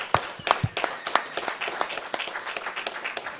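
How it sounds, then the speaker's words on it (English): An audience claps at a religious gathering, with a thin scattering of individual hand claps turning into a quick, uneven patter that fills the room for a few seconds, close and fairly loud, without speech over it. "Clap it up."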